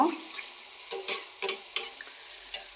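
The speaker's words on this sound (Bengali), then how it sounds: "এখন আমি ভালো করে ডিমটাকে এটার সাথে মিক্স করে নিব" Egg is stirred into snake gourd frying in a pan, with a soft steady sizzle and several distinct scraping strokes of a spatula against the pan at an uneven rhythm, close and clear without talk.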